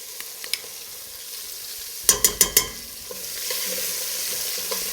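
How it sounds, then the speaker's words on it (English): Vegetables browning with tomato paste in a pan for beef short ribs, a close steady sizzle broken by a quick run of four sharp clacks of a spoon or spatula against the pan, then louder frying. "We have some coloring on our vegetables. We are going to add our tomato paste."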